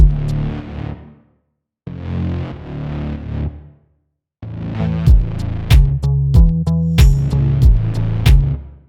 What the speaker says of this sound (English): send some of that synth over to send B, which is just a stock big room reverb from Ableton Live